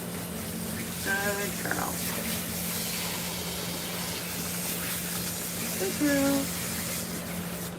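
Water sprays steadily while rinsing a long-haired cat during a bath, a continuous hiss under a person's soothing talk, with brief squeaky sounds in between.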